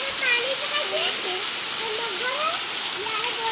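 Heavy monsoon rain pours down steadily as a dense, even hiss with no pauses, while a faint wavering voice-like tone drifts underneath.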